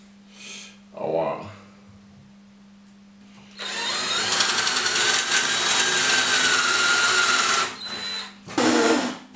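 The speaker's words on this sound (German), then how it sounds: "So, auf ein Stück Holz eben durchgebohrt." A drill bores through a piece of wood, a loud sustained whine lasting several seconds, with short spurts of the motor and speech before and after.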